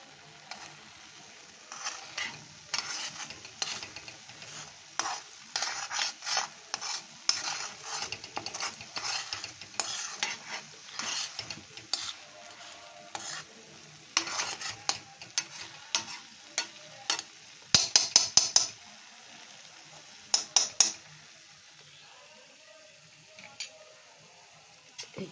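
A spoon stirs nalen gur, date palm jaggery, into a mixture in a pan, scraping and tapping in irregular bursts with soft sizzling between them, close and fairly quiet.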